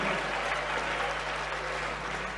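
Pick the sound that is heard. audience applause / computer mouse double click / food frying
audience applause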